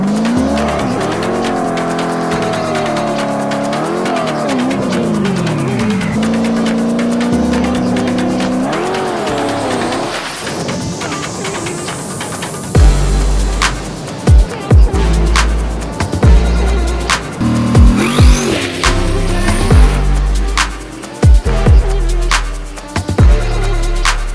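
A drag racing car makes a fast run with a loud, sustained engine roar, rising through gears with sharp shifts, then repeated popping bursts and tire noise as it charges down the strip.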